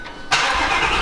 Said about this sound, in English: So let's get a cold start up, if you would.